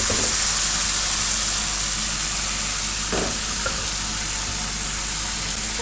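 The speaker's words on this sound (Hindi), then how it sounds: "अब मैं इसमें फ़ौरन दाल डाल दूँगी।" Dal hits a hot tadka of cumin seeds, chopped green chillies and red chilli, giving a loud continuous sizzle with stirring and a brief splash partway through, and no one speaking.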